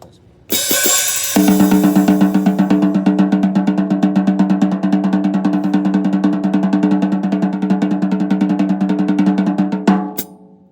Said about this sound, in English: this paradiddle for this tune is a reverse paradiddle, so it's going to basically be a paradiddle backwards